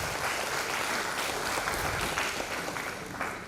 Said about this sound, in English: let us welcome His Grace with a huge round of applause